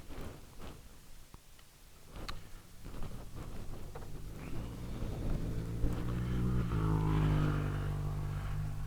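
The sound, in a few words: Ducati motorcycle passing by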